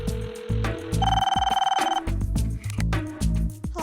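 A telephone bell rings in loud, rapid trilling bursts, a clear mechanical ring standing out over other intermittent sounds around it.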